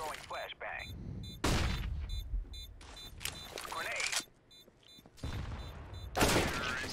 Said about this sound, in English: he just random shot through the smokes and kill me